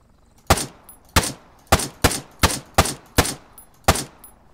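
Gunfire in ARMA 3 on the Malden map: eight sharp, loud single shots at roughly even half-second intervals, each with a short echoing tail, and no voices over them.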